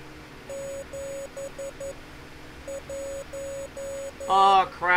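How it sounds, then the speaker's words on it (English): Morse code beeps in a video game set in the Backrooms, a steady tone keyed into short and long pulses in two bursts, followed by a brief burst of voice-like sound at the end. "Oh crap, it's a Morse code. Don't you hear that?"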